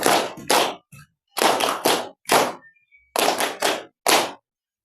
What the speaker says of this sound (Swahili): Tupigiane makofi